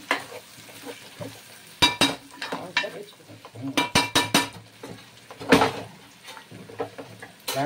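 A spoon scrapes and clanks against a pan as chili powder and biryani masala are stirred into chicken curry, irregular metallic knocks over a low sizzle, close and busy.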